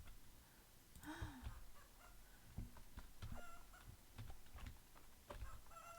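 Chickens in the farming game Fields of Mistria, among them a pink one, give a few soft, quiet clucks scattered over a low background with faint clicking.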